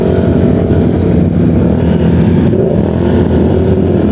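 Eight motorcycle engines rev loudly and continuously close by, a dense rough roar that swells slightly without letting up.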